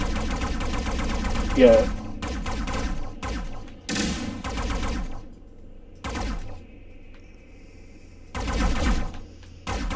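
Rapid gunfire from the space combat video game Space Misfits comes in several loud, dense bursts separated by short quiet gaps, with a brief voice heard once.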